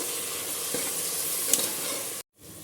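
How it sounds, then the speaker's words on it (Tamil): Curd stirred with mint and coriander in a hot pan while cooking cumin rice, giving a steady loud sizzle and hiss with light stirring scrapes, then a brief abrupt silence near the end before the frying resumes. "இதையும் நல்லா வதக்கிக்கலாம்."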